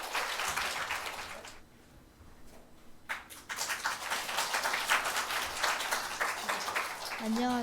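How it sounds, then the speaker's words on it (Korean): Church congregation applauding during a Sunday afternoon worship service, broad clapping filling the room with a brief lull midway before swelling again, mixed with voices and shouts from the crowd. "하나님께 영광의 박수 할렐루야."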